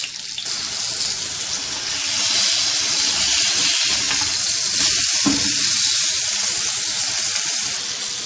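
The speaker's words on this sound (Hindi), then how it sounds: "अब इस बीफ पैटी को फ्राई कर लेंगे।" Beef patty frying in oil in a pan, a loud steady sizzle that fills the whole stretch with faint stirring noises and no talk.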